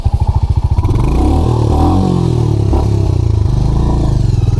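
A 350 cc motorcycle engine idles with a steady throb, then revs up loudly and holds a rough, rising roar close by, on a wet road near a waterfall.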